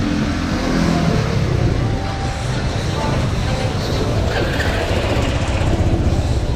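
Road traffic at a busy junction in Pattaya, Thailand, makes a loud, constant roar of passing cars and engines close by, with a faint hint of a voice in the background.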